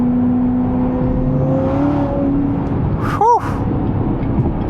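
A Corvette C7 ZR1 with 52K miles accelerating in third gear: a loud, steady engine drone and whine heard from inside the car, with a brief voice breaking in partway through.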